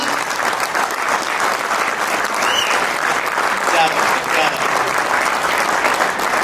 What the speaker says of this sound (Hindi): तो शेरों एक बार जोरदार ताली